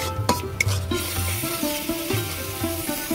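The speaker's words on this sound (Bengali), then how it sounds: "এইভাবে আমি ভালো করে কষিয়ে নেব তেল ছাড়া পর্যন্ত" Prawn and okra gravy being stir-fried in oil in a pan, with a steady soft sizzle and a recurring scraping, stirring rhythm, close and continuous, no talking.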